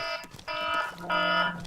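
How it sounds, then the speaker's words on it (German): An electronic alarm rings in short bursts, a bright harmonic tone sounding three times with brief gaps between, clear and close with no speech. "Alarm!"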